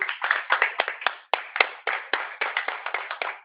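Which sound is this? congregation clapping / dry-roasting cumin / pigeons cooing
congregation clapping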